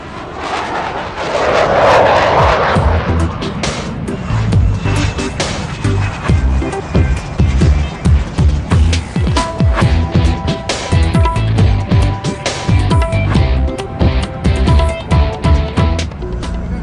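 Roar of a fighter jet engine in a flight simulator, loud and sustained with a rising surge early on, then a continuous rumbling thrust with repeated pulsing bursts throughout, without any voices.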